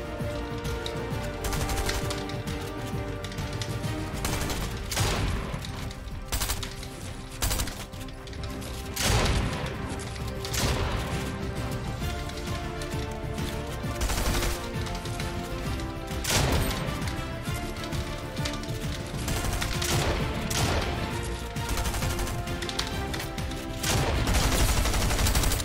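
Dense gunfire in a Fortnite solo cash cup match fills the whole stretch, rapid overlapping bursts and volleys with crashing impacts, loud and continuous over a busy game mix, with no talking.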